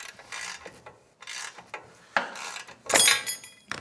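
A wrench tightening the steering stem on a Honda CRF450R dirt bike, heard as a few bursts of close metallic ratcheting with short gaps of quiet between them.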